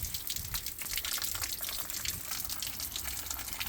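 Rainwater spilling off the edge of a garden shed roof, a steady, faint splashing and dribbling stream with scattered drips, continuous and heard alone without voices.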